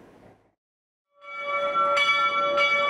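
Church bells toll in mourning in Nineveh, ringing loud and sustained with bright overtones after a short quiet gap, with two sharper strikes standing out.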